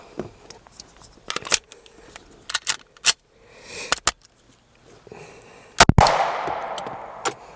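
An LWS Tomahawk compensated Glock pistol is fired indoors in an enclosed space, with a string of sharp, loud shots spaced irregularly and a tight cluster near the end, followed by ringing decay.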